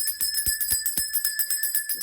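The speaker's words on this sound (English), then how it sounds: "let me shake this bell" A small hand bell is shaken rapidly, producing a bright, sustained ringing with quick repeated strikes about four per second, close and clear with no talking.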